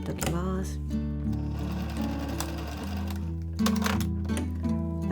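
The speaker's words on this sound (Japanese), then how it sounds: "ここね縦にちょっとねミシンステッチで出ないように押さえておきます" A sewing machine runs continuously while stitching a vertical seam on a knitted sweater, a close, steady mechanical whir with a rapid needle chatter that briefly pauses and picks up again.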